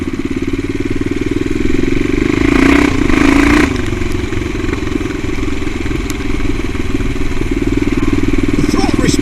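CCM Blackout motorcycle on the road, its engine running loud and close with a steady pulsing throb and a brief rise in revs, with a voice talking over it.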